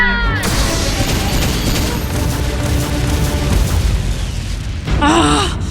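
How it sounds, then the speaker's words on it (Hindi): A cartoon blue pulse gun fires in a sustained, loud roaring burst of blasts with dense crackling energy, followed by a brief rising electronic whine. "Blue pulse gun, fire!"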